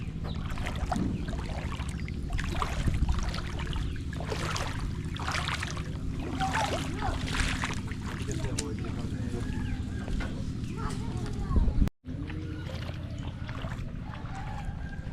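Water sloshing and splashing as a small boat moves along in rural Bangladesh, with voices talking over it and a brief thump near the end.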